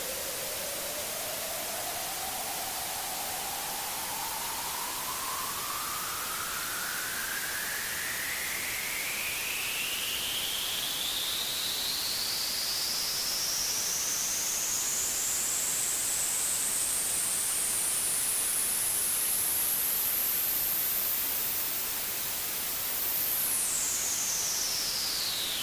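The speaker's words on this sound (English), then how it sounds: "Create for yourself a fairly narrow, fairly high boost, play white noise, and sweep the frequency range." White noise played through a narrow, high equalizer boost whose frequency sweeps steadily upward from low to very high, a whistling tone gliding across the hiss, then dropping back at the end, alone and constant in level.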